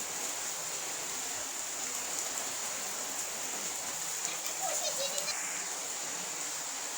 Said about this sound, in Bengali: দর্শক বন্ধু দেখেন, অনেক বৃষ্টি।